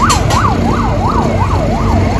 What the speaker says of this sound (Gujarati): એમ્બ્યુલન્સ.